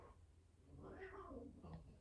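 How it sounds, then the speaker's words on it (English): Two house cats scuffling indoors, a rising, wavering yowl building to a loud squall with a second cry near the end, close by over a low room hum. "Sorry about my cats."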